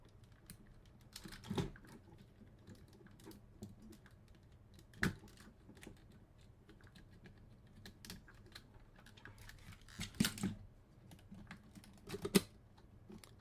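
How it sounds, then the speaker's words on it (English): Plastic Optimus Prime toy from Transformers: Revenge of the Fallen clacking as its parts are folded and moved, a few sharp close clicks and knocks spread over quiet handling noise, with no talking. "It's a very noisy toy, just with all the clacking and everything."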